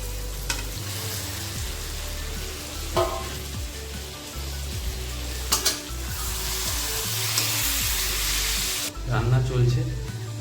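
Fried potato and soybean pieces going into spiced oil in a pan, loud continuous sizzling with scraping stirs and occasional clinks of a spoon against the pot, close by.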